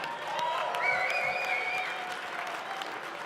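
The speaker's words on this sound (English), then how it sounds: "let's give him a round of applause." An audience applauds at a design competition event at Autodesk University in Las Vegas, a steady round of clapping sustained throughout with faint crowd murmur.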